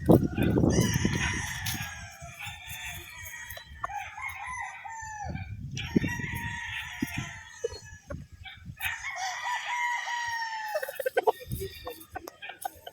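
A Sweater-Boston cross stag rooster crows in several long, loud calls, with clucking and farm noise between them. A voice talks over parts of it.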